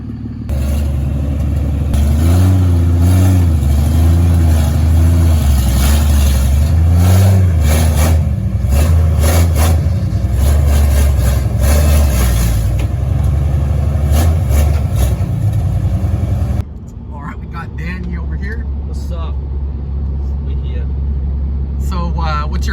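1969 Toyota Land Cruiser FJ40, running without its exhaust fitted, loud and close with repeated revs and a rough idle; the engine cuts off partway through, and voices talk over the last stretch.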